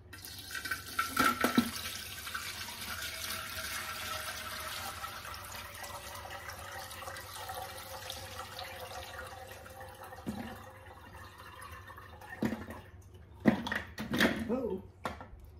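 Sticky pickling liquid poured into a jar for homemade 14-day pickles, a soft continuous trickle with a few clinks and handling knocks toward the end.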